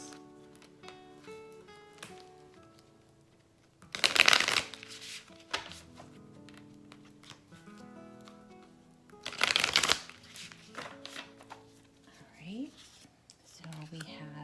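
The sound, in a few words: shuffling tarot cards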